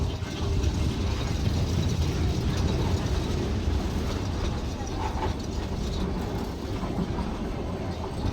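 The Nilgiri Mountain Railway toy train to Ooty rolls toward a station with a continuous near rumble and mechanical clatter of wagons and running gear, steady throughout.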